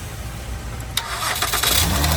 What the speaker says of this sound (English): Start the car for us.